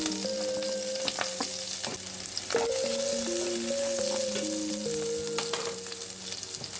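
Garlic and onion frying in a pan, a close, bright sizzle with repeated scrapes and taps of a utensil stirring through, and a sustained tonal hum underneath; no one speaks.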